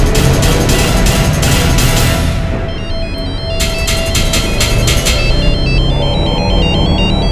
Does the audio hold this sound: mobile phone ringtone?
yes